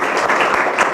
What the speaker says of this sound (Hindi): जोरदार ताली बजा दीजिए एक बार।